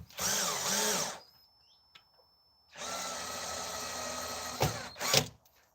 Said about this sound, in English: Maybe I shouldn't drill it that hard.